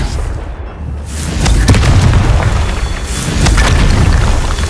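Repeated spell explosions in a video game: deep booming blasts swelling and rolling one after another, loud and close, with no talking.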